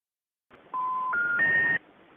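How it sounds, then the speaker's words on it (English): Three rising dial tones in quick succession, each held steady, sound over a faint line hiss as a call is placed through Google Voice, with no voice present. "So I'm going to try to call them with Google Voice."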